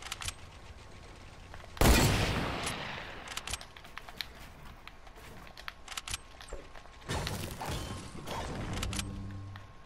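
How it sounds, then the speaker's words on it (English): Gunfire in Fortnite: a loud blast near the two-second mark, then scattered shots and bursts of rapid fire, near and far, over quiet game ambience without speech. "you shoot at me and then you don't shoot back"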